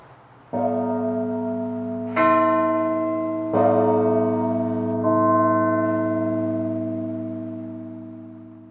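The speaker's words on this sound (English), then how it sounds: "it works out just fine to be able to ring these two largest bells together" The two largest bells of Holy Trinity Cathedral in San Francisco ring together, four deep resonant strikes a second or so apart, each leaving a long humming decay that fades at the end.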